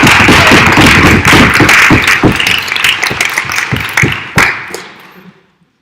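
A debate chamber audience claps for the first speaker, starting as dense, loud applause and thinning into scattered sharp individual claps before fading to silence.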